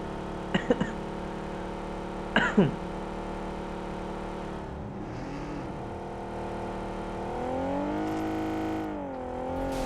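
A car engine in a shooter video game, a steady engine drone that rises in pitch and revs toward the end, with a few sharp clicks or shots early on and no speech.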